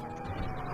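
Police car siren in the video game GTA V, a brief, moderately quiet wailing tone heard over a low engine-like rumble.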